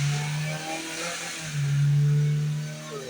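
Motorbike engine revved after a service and sensor repair, giving a steady mid-pitched drone that rises in a stronger rev midway and then eases, close and alone.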